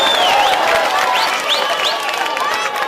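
Crowd at a political rally bursts into applause and cheers, a loud sustained wash of clapping with shouting voices and whistles rising over it.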